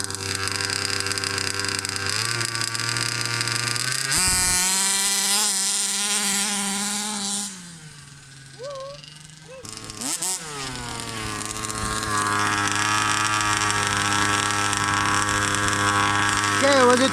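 A Baja 5B RC car with a 29cc engine on a 1856 gear ratio runs and revs in a loud buzzing whine that rises and falls, drops briefly in the middle, then climbs back to a sustained high-pitched scream.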